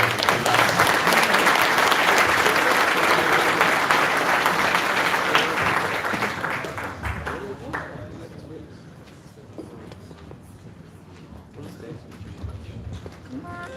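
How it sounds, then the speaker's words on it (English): Conference audience applauds after a talk at a Bitcoin conference in Ireland: sustained, dense clapping from a sizable crowd for about seven seconds, then tapering to a few claps under a speaker's voice. "That's a round of applause."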